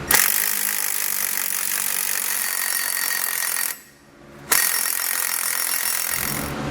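Power tool spinning a socket to run down axle strap bolts on a 2014 Ford F-250 during an Air Lift helper spring install, in two loud sustained whirring runs of several seconds each with a brief pause between them.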